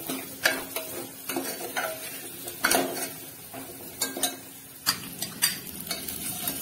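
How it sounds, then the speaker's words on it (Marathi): Salted drumstick pods are stirred in a metal pot with a spoon, making close, irregular scraping clatters and clinks against the pot, with repeated strokes over a soft background. "मीठ टाकलं की ते पुन्हा एकदा असं मिक्स करून व्यवस्थित घ्यायचं"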